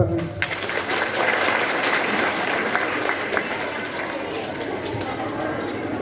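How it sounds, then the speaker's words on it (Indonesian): A studio audience at a televised Maulid Nabi Muhammad SAW Quran recitation event claps in sustained, dense applause for several seconds, with a faint murmur of crowd voices. "Tepuk tangan."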